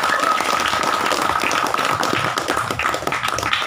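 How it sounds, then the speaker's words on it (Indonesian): A group at an evening camping gathering applauds together, a dense, steady patter of many hands clapping close by for a few seconds without a break. "Aplaus buat kita semua"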